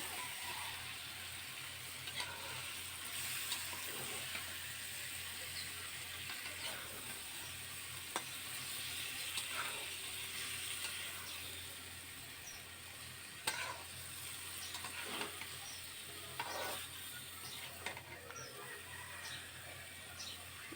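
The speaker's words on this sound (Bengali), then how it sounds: "এবার ভালো করে তেলের সাথে মাছগুলোকে মিশিয়ে নিতে হবে" Lote fish stirred and fried in oil, a soft, continuous sizzle heard at a distance with occasional sharp clicks and scrapes of the spatula over a steady low hum.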